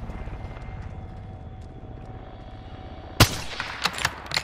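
Gunfire in a first-person shooter, a sharp loud crack followed by several scattered shots after a stretch of steady engine-like rumble.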